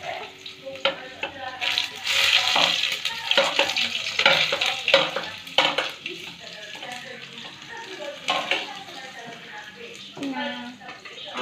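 Onion, garlic and ginger frying in a pan, with a steady sizzle running throughout and utensils scraping and stirring at intervals, while a voice speaks over the cooking.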